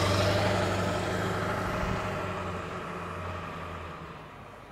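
A 2003 Ford Excursion diesel engine runs steadily, heard from behind the vehicle as a continuous low, rumbling idle that eases slightly quieter toward the end.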